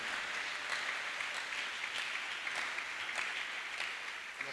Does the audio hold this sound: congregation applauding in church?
yes